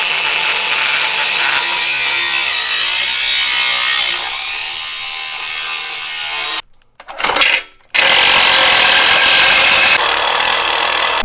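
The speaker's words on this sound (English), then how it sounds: "So now we're going to cut the original exhaust pipe right here" A power tool cuts through the original exhaust pipe of a Mustang GT, a loud, steady, harsh grinding-buzz that stops briefly with a couple of short bursts, then resumes at full volume.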